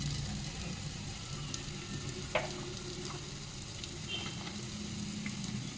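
Spices fry in a pan of oil for cream of broccoli soup, giving a steady close sizzle with occasional light stirring taps, all without talking.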